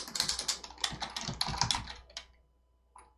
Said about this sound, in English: let's do another paragraph and type this